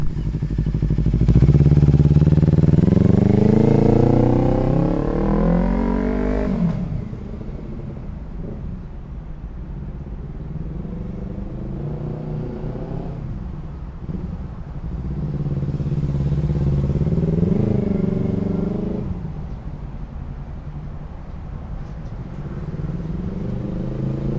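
A 2016 Kawasaki Z300 motorcycle is ridden, its engine revving loudly up through the gears at first, then settling into a steadier, quieter run with another surge of throttle midway and some wind buffeting.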